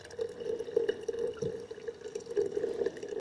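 Ammonium sulfate 21-0-0 lawn fertilizer mixed into water, heard as faint, close trickling and dripping with a light liquid gurgle over a few seconds, no voices.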